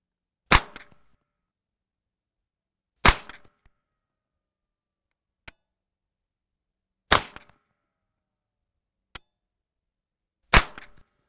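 An Angstadt Arms UDP-9 fires 9mm rounds in five loud, sharp reports spaced about two to three seconds apart. Each report ends in a short ringing tail, and two fainter, thinner cracks fall between them.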